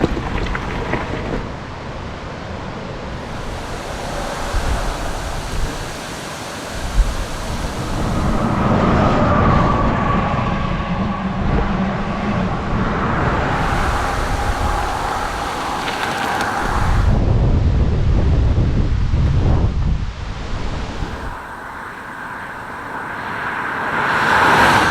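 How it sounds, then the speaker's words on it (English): Strong gusting wind buffets a cyclist on a touring road, a loud rushing roar that swells and fades in waves across the whole stretch, with passing traffic rumbling through at times. "This wind's whipping me around. Insane how windy it is right now."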